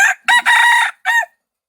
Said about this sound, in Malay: Lah, ayam semua berkokok.